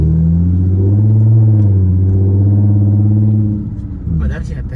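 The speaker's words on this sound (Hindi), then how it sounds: "एग्जॉस्ट लगाने का ये नुकसान होता है" A car fitted with a loud aftermarket exhaust revs and rumbles up close, a deep throbbing drone that holds steady for several seconds before dropping back, with a voice partly over it.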